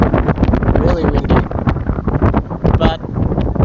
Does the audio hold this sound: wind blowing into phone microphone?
yes